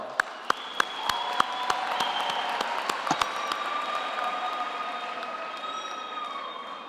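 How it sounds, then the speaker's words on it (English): An audience claps for graduates at a graduation ceremony in Qwaqwa, a few sharp nearby claps leading into steady, moderately loud applause that holds and thins slightly toward the end. "I think we can give our graduates another hand of applause"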